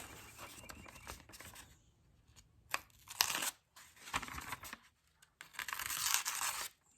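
A freshly sharpened knife slices through a sheet of paper in several quick, crisp tearing strokes close by, separated by short pauses, with a longer continuous cut at the end.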